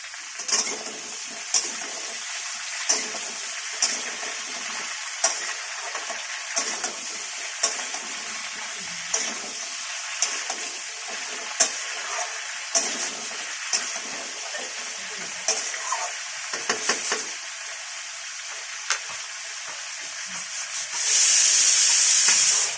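Pointed gourd, pumpkin and vegetable stalks fry in a pan for a mixed vegetable labra, with a steady sizzle and regular scraping stir strokes close by, and a louder burst of hissing near the end.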